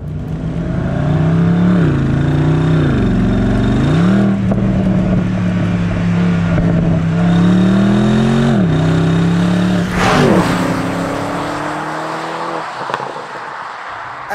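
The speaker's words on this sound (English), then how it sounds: "just listen to the way it sounds if we drop a few gears" BMW M850i Convertible engine revving as it drops through gears, loud and close, with several rising and falling surges in pitch over steady road noise before settling into a smoother drone.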